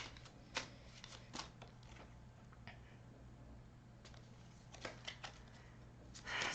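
Playing cards being shuffled and pulled, a soft papery riffle with scattered crisp flicks and snaps, one louder burst near the end, close and fairly faint over a low steady hum, with no talking.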